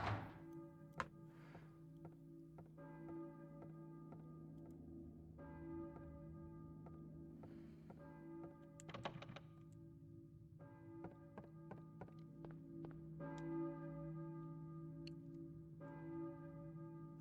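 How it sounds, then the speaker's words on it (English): Church bell tolling in the horror game Silent Hill, repeated resonant strikes ringing out one after another at a slow, even pace over a low hum, with occasional thuds. "church bell, maybe? Who's ringing the bell?"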